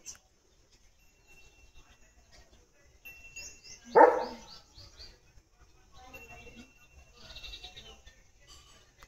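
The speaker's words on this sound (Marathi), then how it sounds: "त्याची घंटा वाजती इथली व त्या आवाजाला भुंकतोय" A single sharp bark from a German Shepherd rings out in open countryside, reacting to a bell on a tethered animal nearby; faint bell-like jingling and soft background noise surround it.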